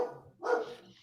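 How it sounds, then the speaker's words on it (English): A dog named Briggs lets out a single short bark, fairly close and clear, after a brief stretch of quiet low voice-like murmur. "The dog is agreeing. I just heard that bark."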